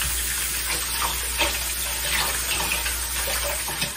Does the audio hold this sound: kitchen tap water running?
yes